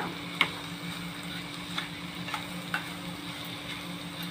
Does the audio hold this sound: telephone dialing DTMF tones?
no